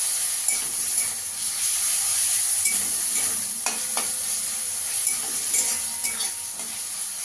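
Chicken fries in a pan with Kashmiri chili powder and turmeric, giving a steady, close sizzle with occasional scraping stir strokes throughout and no voices.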